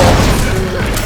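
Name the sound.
ASMD combo explosion fired by a bot in Unreal video game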